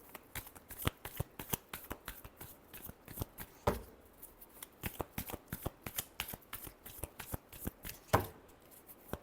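Tarot cards are shuffled in a quick, steady run of crisp riffling flicks and slaps, with a couple of louder bursts where the deck is bridged, close up and with no talking.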